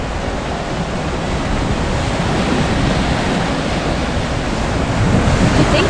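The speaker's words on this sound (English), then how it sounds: "Look at those waves." Waves break against rocky shoreline on Lake Superior at Grand Marais, Minnesota, a loud continuous surf roar with steady wash and no voices.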